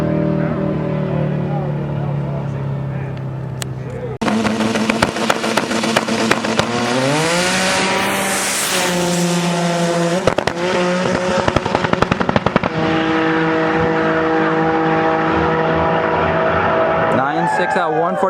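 A race car engine roars close by, loud and continuous, with revs climbing, dropping and climbing again in sustained harmonic pitch sweeps, like a car under hard acceleration on a track.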